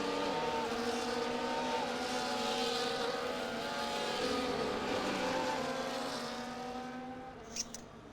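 Several F2 race cars scream past in a racing video game at Abu Dhabi behind a safety car. Their engines layer into a loud, continuous high-pitched drone that fades a little near the end.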